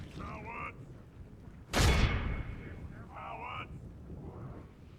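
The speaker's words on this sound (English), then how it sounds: "The catapult is doing some serious amounts of damage." A catapult fires in the video game Third Age Total War, one sharp loud thump with a booming impact wash near the middle, amid faint battle noise and short distant cries.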